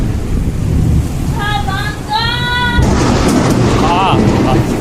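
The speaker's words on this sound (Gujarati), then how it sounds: "ઓ હે કેવી વીજળી આમ જાવ વીજળી બંધ થઈ જાય ને કડાકા પડાકા" Heavy rainstorm with thunder and lightning, a constant loud wash of rain and rumbling, with people speaking and calling out over the storm.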